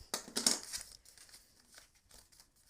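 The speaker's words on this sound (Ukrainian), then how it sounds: "І щільно все ножицями притискаємо." Paper folded for a handmade paper wallet, pressed flat and creased with scissors, giving a few crinkling rubs up close in the first second, then quieter faint scraping that fades out.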